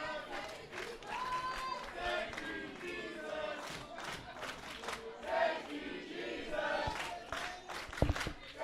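Crowd at an independent wrestling event cheering and shouting in loud, uneven bursts, with a commentator's voice talking over the noise and a sharp thump near the end.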